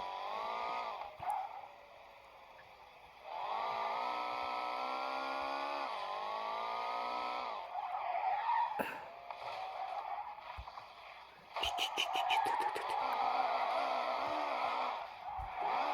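A steady engine drone rises and falls in pitch as gears shift, with brief mechanical rattles and bursts, from a car accelerating in Car Simulator 2.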